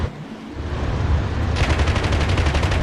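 A rapid string of heavy automatic fire from a tank gun in DCS World rattles out after a rumbling engine bed, loud and steady for more than a second with no voices over it.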